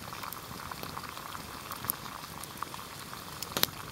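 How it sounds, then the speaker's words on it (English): Quiet, steady bubbling and gurgling of water at a rolling boil, with occasional small pops and ticks close by. "The water's boiling."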